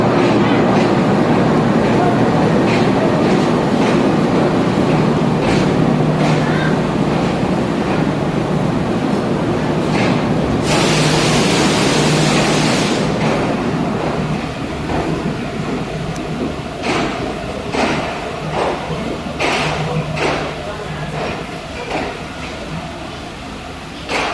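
Khyber Mail passenger train near Lahore, led by recently imported American GE U20 locomotive 4558, rumbling loudly and continuously with rhythmic wheel clicks, a brief hissing burst partway through, and the roar easing slightly toward the end.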